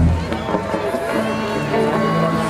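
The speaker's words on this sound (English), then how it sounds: "Give him a round of a hand of applause." Crowd at a live rock band concert cheering and shouting for a birthday, a loud roar of voices and whoops with some talk mixed in, under ongoing stage sound.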